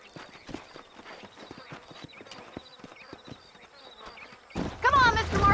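Horse hooves clip-clop steadily in the Western video game Red Dead Redemption, spaced beats ringing out clearly before a burst of louder noise and a voice near the end.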